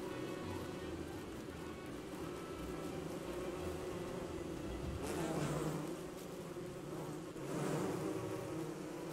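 Dense, steady buzzing of a swarm of bees inside a bee cave in the Don't Starve video game, continuous throughout with two brief swells in loudness and no talk.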